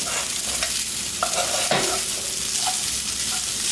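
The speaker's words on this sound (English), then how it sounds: "All I want to do is give that a good mix. I'm making a mess on the stove" Kimchi fried rice with parboiled brown rice being stirred in a pan on the stove, a steady sizzle under repeated scraping and clattering strokes of the spoon close by, with no talking.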